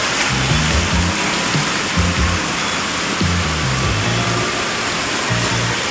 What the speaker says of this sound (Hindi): हमारे शहर में क्या पानी है, क्या बारिश है।